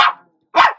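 A lurcher puppy with a rough coat gives two sharp barks during a play-fight with its littermates, close by and with a short silence between them.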